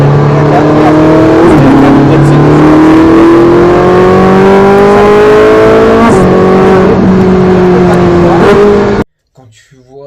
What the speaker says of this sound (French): je vais te faire écouter de la Ferrari, voir la différence